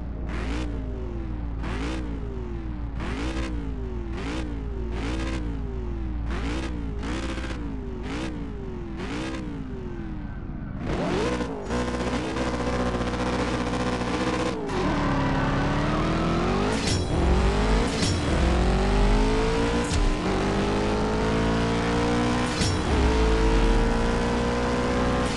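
Engine of a Ferrari Portofino in the CSR Racing 2 racing game, rhythmic revving pulses during a launch build-up, then a loud sustained acceleration with rising pitch sweeps at each gear shift, no voices.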